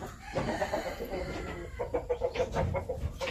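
Japanese Shamo hen clucking in a breeding pen, a run of repeated short close clucks with some farm background noise.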